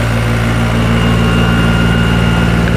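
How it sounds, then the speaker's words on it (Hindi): New Holland 5510 Excel series tractor engine running steadily at close range, a loud, constant low diesel drone with no speech. "आज हम आपको दिखा रहे हैं न्यूलैंड का 5510"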